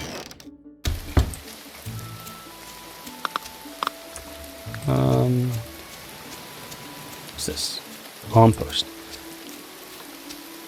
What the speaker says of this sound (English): Raining again. I do like the weather. I like the fact that it starts and stops.